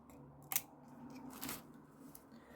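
Scissors snip thread stuck on sellotape, one sharp close cut followed by a softer rustle of the tape, quiet and alone.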